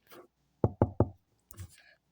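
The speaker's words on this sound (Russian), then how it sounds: "кто там здесь стучит посреди ночи?" Three quick, crisp knocks on a door at night in the Minecraft video game, close and distinct against near silence, with a faint murmur just before and a soft rustle after.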